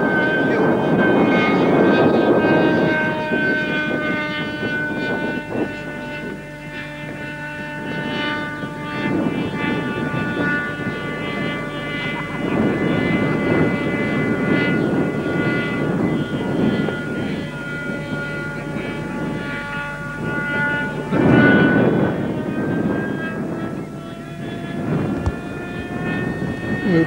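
A model jet aircraft flying at the 1989 Wroughton jet rally, a steady droning engine roar that swells and fades slightly as it passes, heard at a distance over wind noise.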